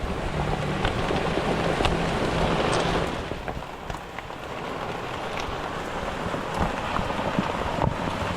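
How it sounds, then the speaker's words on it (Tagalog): Heavy rain pours down onto a tarp shelter, a dense, loud, continuous hiss with scattered heavier drumming spots that eases slightly partway through. "Bumuhos na yung malakas na ulan"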